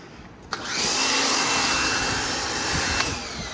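A foam cannon sprays snow foam onto a dirty car, a steady close hiss that starts sharply, runs continuously for a few seconds and then cuts off, with no voices.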